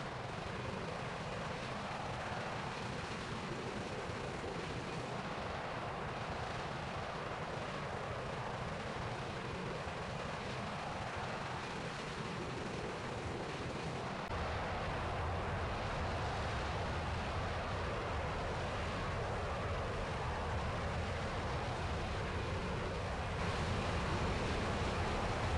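An F-16 jet in a flight sim game slows for landing with a steady, loud, broad engine roar that holds throughout, with a slight shift in tone about halfway through.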